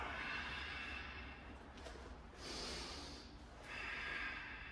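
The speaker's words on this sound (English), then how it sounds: "Let's take 2 breaths." Deep breaths drawn in and pushed out during a martial arts workout: a few slow, airy rushes of breath, close and steady, with no talking.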